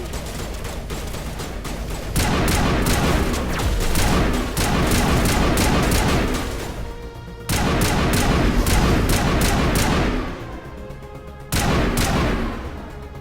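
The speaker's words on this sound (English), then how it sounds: "Where are they shooting from?" Bursts of automatic gunfire rattle in Mass Effect on the planet Ilos, loud and close, arriving in three long volleys separated by brief lulls with no talking.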